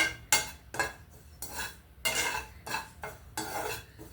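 Taro roots fry and get stirred in a pan, a utensil scraping the pan in six or seven distinct strokes with a soft sizzle beneath, close and fairly loud with no talking.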